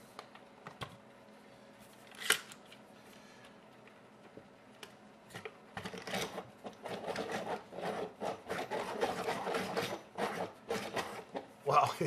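A Staedtler woodless HB pencil ground in a Deli sharpener makes a close, rough rasping scrape in uneven bursts, starting with scattered taps and building into continuous grinding.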